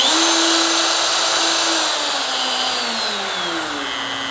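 Two wood routers, a Dewalt 618 and a Bosch MRC23, whine loudly and steadily on their own, their pitch sliding down as the motor speed is turned through its range.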